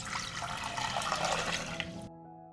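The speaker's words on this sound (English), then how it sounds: "Pour over 1 liter of water." A liter of water poured over crushed eggshells in a pot, a steady close rushing splash for about two seconds that cuts off abruptly, leaving near silence.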